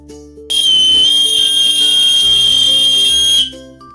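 A pressure cooker whistle blows once, a loud, steady, piercing hiss-whistle lasting about three seconds close by, then stopping.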